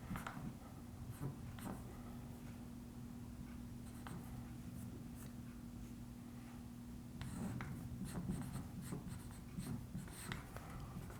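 A pen scratches across paper or a board while a calculus derivative is written out, a faint continuous scribbling with small strokes and pauses and no speech.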